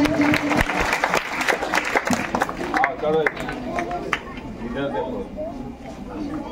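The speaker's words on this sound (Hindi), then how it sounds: "एक जोरदार ताली हो जाए आरती प्रिया के लिए।" Crowd claps for a prize-winning schoolgirl at a district competition results ceremony, brisk applause up front that thins out as talking and crowd murmur take over, close and fairly loud.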